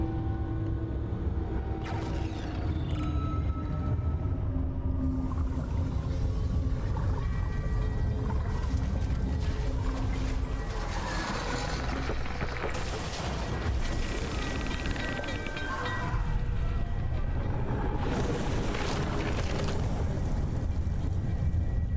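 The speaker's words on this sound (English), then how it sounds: "the sound of the tower changes into a deep rumble" A deep, continuous low rumble from a drill tower in the game Dredge, with droning mechanical tones and occasional rising swells, heavy and steady throughout.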